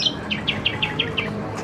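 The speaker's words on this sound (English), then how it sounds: "I do believe the bird in the background is audio from the post show." A recorded bird call played loudly over speakers at the Spaceship Earth post-show area at EPCOT, a string of six evenly spaced bright chirps in a steady rhythm above a constant hum of background noise.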